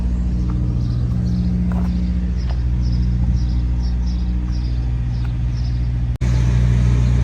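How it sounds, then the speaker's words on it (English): Deep, steady rumble of a 1966 Ford F100 pickup truck engine idling close by, with a brief cut and the engine running on afterward. "we will fire the truck up and then drive it"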